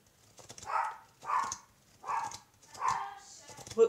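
A dog barking indoors, five evenly spaced barks of moderate loudness, slightly muffled as if from another room, with no talk over them.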